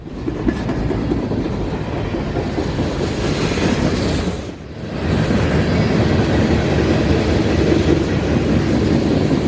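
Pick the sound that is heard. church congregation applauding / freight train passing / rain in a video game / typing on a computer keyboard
freight train passing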